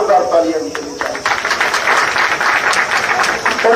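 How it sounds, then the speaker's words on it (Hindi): Crowd applause at an old pension rally after a cycling march, dense and steady for several seconds, with voices mixed into the clapping. "जोरदार तालियां भी देनी चाहिए"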